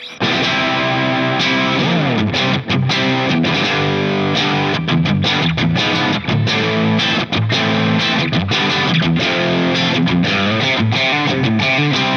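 Distorted electric guitar played through a Torpedo Captor X with a virtual Marshall 412 cabinet, a steady, loud riff of chugging chords and sustained notes running without pause.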